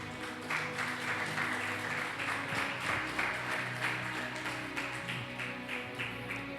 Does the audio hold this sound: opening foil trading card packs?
no